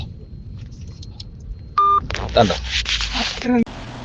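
A short burst of steady electronic dialing tones sounds close by from a faulty phone, followed by rustling, handling noise and a muffled voice.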